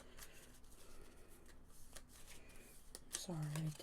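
A deck of Pandemic Legacy Season 2 cards is shuffled during a board game, giving soft riffling and flicking bursts close by, with people talking over it and one voice rising near the end.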